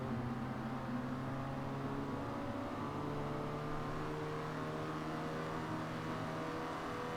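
A Citroen DS 23 engine driving around a test track in a racing game, a steady droning hum with slight rises in pitch as it accelerates, constant and fairly quiet throughout.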